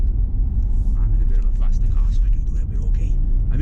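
A fast car merges onto a motorway with a steady low road rumble and engine hum, while someone talks over it throughout.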